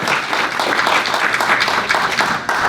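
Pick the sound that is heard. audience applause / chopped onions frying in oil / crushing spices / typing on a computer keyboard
audience applause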